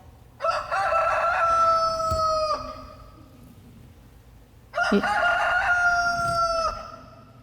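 A rooster crows twice, each long drawn-out call loud and near, separated by a short quiet gap.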